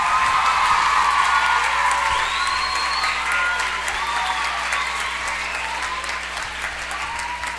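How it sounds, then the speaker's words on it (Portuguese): Loud, sustained applause fills a municipal council chamber during a civic Independence Day ceremony, with steady clapping from a large crowd and occasional whoops and cheers rising above it. "Roberto, que eu gostaria de pedir a vocês uma salva de palmas por esse trabalho conhecido."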